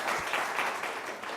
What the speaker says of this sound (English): Miss Shelley, Miss Ruth, can we give them a round of applause, please?